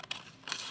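Scissors snip through paper strips during paper weaving, giving two brief, crisp cuts close to the mic, with a short quiet gap between them.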